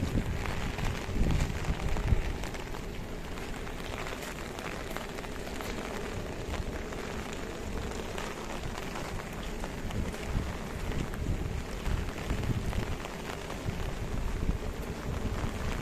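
Steady, dense monsoon rainfall in the Konkan hisses continuously outdoors, with a low rumble and gusty wind noise underneath throughout.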